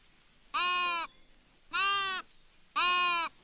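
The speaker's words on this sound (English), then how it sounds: "where'd that sheep go?" Sheep in the video game Tiny Glade bleat three times, each call loud, clear and about half a second long, separated by short quiet gaps.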